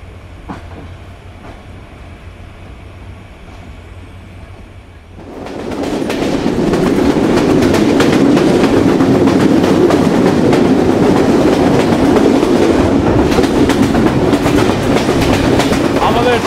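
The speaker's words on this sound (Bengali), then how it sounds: "আমাদের 2 মিনিটের যাত্রা বিরতি শেষ এবং ট্রেন ছেড়ে দিল নোয়াপাড়া থেকে।" Kapotaksha Express pulling out of Noapara station on the Khulna–Rajshahi run: a quiet, low hum gives way after about five seconds to a loud, steady roar of wheels and rattling carriages with rhythmic clickety-clack, continuing to the end.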